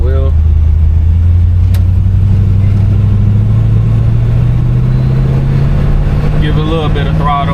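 A 1968 Chevrolet Impala convertible with a two-speed Powerglide drones steadily under light throttle while cruising, its engine pitch slowly rising, with someone talking over it from inside the car.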